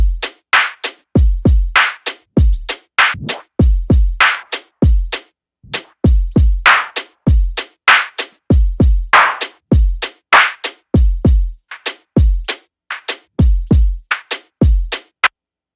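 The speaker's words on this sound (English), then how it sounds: "if I want to automate the tape stop" A rhythmic drum pattern with sharp hits that repeatedly slow and drop in pitch from an automated tape stop plugin effect, like a tape grinding to a halt, played loudly with no voices.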